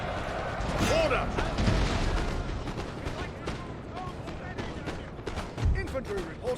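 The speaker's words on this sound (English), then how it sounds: "fire to the left with the cannons" Cannon artillery fire in a Napoleonic-era battle in Napoleon: Total War, with several booming shots and distant gunfire rumbling under a busy battlefield din while someone speaks.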